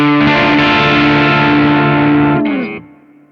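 Electric guitar played through a Kemper profile of a Supro Comet amp with reverb: a loud, sustained distorted chord rings out, shifts briefly near the end, then cuts off into a short reverb tail.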